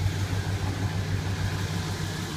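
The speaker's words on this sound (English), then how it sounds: "Car's still running right now." A 1966 Cadillac Fleetwood's engine idles steadily at close range, a low, even rumble with no voices over it.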